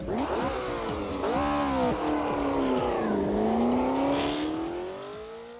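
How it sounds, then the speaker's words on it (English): A Porsche 908 Spider racing car in Assetto Corsa revs hard through its gears, its loud engine note climbing and dropping with each shift, with faint tire squeal as it pushes on. "This is the Porsche 908 Spider from Velo."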